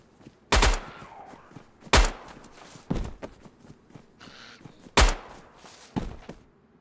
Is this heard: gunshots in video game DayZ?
yes